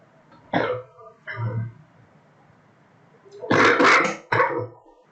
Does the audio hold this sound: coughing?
yes